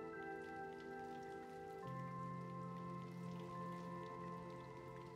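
Rain falls in Little Nightmares 2 as a faint, steady hiss that continues under sustained low ambient drones throughout.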